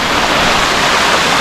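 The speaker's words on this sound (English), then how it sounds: "we're here at Bluefields River" The Bluefields River in Westmoreland runs with a steady, loud, broadband rush of flowing water, continuous and even throughout, with no voices.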